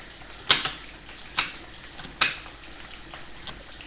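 A knife slices garlic thinly on a board, with three sharp distinct chops spaced under a second apart and a fainter fourth near the end, over a quiet background hum.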